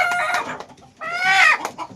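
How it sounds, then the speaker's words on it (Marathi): A purebred jungle fowl hen, about four months old and tailless, clucks in two loud bursts of close calls, the second a drawn-out squawk. "प्युअर रान कोंबडीची"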